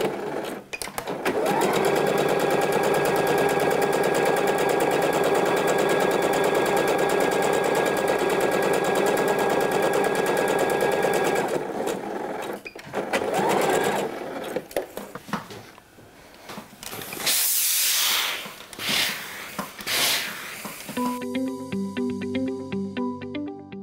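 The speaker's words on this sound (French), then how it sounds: "on va ensuite piquer entre ces deux épingles à 5 mm du bord pour faire la seconde partie des coutures anglaises" Sewing machine stitching a French seam on a dress, running in a long steady whir for about ten seconds, then in shorter bursts with pauses and handling clicks, and a tinny musical tone near the end.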